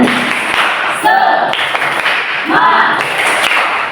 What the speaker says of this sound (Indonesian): yuk tepuk semangat